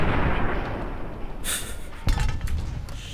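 A bottle cap mine exploding in the video game Fallout: New Vegas, heard as sharp bursts with glassy crackle over a loud, rumbling game background, one blast near the middle and another about half a second later.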